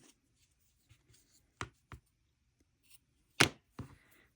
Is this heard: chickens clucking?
no